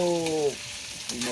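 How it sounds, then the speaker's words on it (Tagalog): Carrots and potatoes fry in a pan with a steady, moderate sizzle, while a voice speaks briefly at the start over the crackle. "Carrot muna at saka patatas. Ito, sangkutsahin. Iprito."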